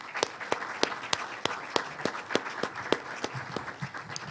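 Audience at an airport land use compatibility session applauding panelists, a small group clapping in an even, sparse rhythm of distinct claps, moderately quiet in a room.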